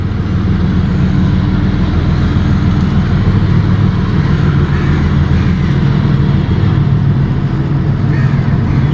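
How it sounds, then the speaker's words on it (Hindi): WDG 4G diesel locomotive hauling a freight train past a small Delhi railway station, with a loud, steady low engine rumble and continuous rolling noise throughout, no voices. "ये जो लोकोमोटिव है, ये काफ़ी पावरफुल लोकोमोटिव है, और डीजल लोकोमोटिव है ये WDG 4G।"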